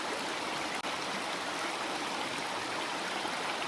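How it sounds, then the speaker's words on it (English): A babbling creek near Charit Creek Lodge in Big South Fork, Tennessee, rushes and trickles in a steady, loud wash of water, with one brief dropout early on. "It's a beautiful creek."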